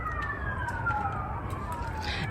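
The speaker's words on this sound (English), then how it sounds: "Sorry about the sirens, you guys, but you know, I am in an urban setting." Emergency vehicle sirens wail faintly in the distance in an urban setting heard from a garden, with a steady rising and falling tone over low traffic rumble.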